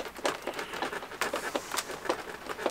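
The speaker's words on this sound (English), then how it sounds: "Can you hear that rain?" Rain falling outside makes a soft, irregular pattering of faint taps that continues throughout, with no one talking.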